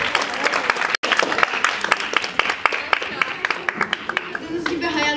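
An audience at a TEDx event at Ekin College applauds in lively, crackling clapping that continues throughout, with a voice speaking over it.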